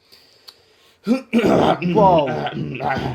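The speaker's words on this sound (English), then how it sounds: "There's my cough." A single sharp cough followed by a throat clear, then a person starts talking close by.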